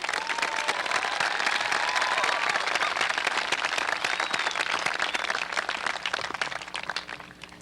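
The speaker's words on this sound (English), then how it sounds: "Will you join me in a round of applause?" A large audience at a 1990 high school graduation ceremony in Beverly Hills claps and cheers in sustained applause that holds strong, then gradually thins and fades toward the end.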